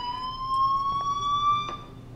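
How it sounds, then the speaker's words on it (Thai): The fire alarm in the Life is Strange video game sounds a steady, piercing electronic tone held throughout at constant volume, with faint clicks underneath. "Do you hear that fire alarm?"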